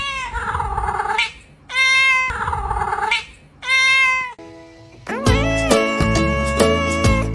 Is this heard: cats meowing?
yes